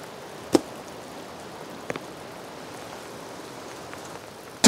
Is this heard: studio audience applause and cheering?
no